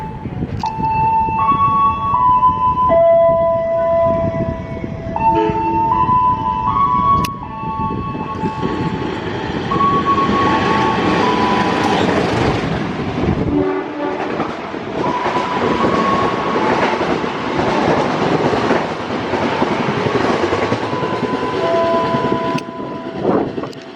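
Airlangga passenger train passes on the rails, starting with sustained horn tones, then a loud steady rumble and clatter of wheels close by.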